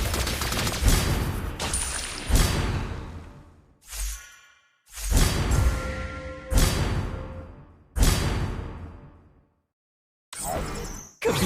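Claude's lightning rapid-fire gunshot skill in a video game bursts out in several loud clusters of crackling shots and whooshes, separated by short silent gaps.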